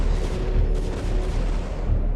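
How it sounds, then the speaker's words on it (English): Battle in StarCraft: Remastered, with dense, rumbling gunfire and booming explosions rolling on without a break, loud and low-heavy, forming a thick continuous roar. "What's the gunfire over there all about?"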